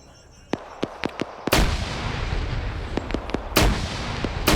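Grenade explosion in a PvP video game match, two loud booming blasts amid a string of sharp, rapid gunshots, the blasts leaving a rumbling roar of debris between them, all close and intense.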